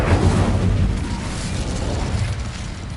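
Incendio fire spell in Hogwarts Legacy bursting into flame: a loud, rumbling, sustained whoosh-boom with a dense low-end roar that stays heavy and near for the full moment, with no voices.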